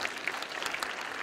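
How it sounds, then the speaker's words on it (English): Applause from a lecture audience at the fifth vegan congress: dense, steady clapping from many hands filling the whole moment, fairly even in loudness with no voices standing out. "Is that what the applause is?"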